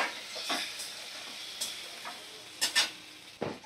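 Eggs and potatoes fry in spiced oil for biriyani, a soft low sizzle broken by several close, sharp clinks and scrapes of a stirring spoon against the pan.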